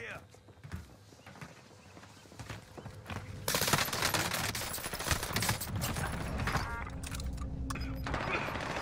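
Enemy gunfire in Warzone Rebirth Island, a battle royale shooter, with rapid bursts of shots rattling loudly and continuously over busy game noise, mixed with people talking.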